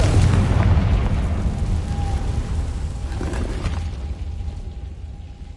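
A Confringo fire spell in the video game Hogwarts Legacy bursts in a loud booming explosion that rolls off into a fading rumble over several seconds, with no speech.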